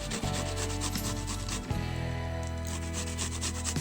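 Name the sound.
grating cactus for hair conditioner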